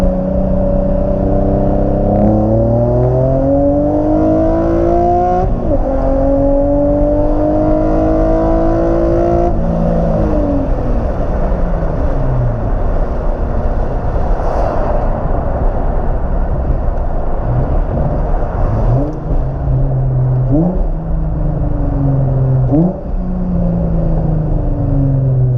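A tuned Infiniti G35 coupe pulls hard from a 40 roll, its engine note rising steeply through the revs with distinct gear shifts, heard loud from inside the car with no one talking.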